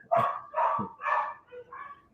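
A dog barks nearby in a quick series of four or five sharp, loud barks, close up, with no talk over it.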